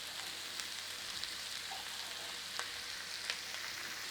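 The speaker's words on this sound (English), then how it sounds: "Oh, listen to that sizzle." Steady, bright sizzling of lard frying in a hot pan, a continuous crackling hiss with small pops scattered throughout.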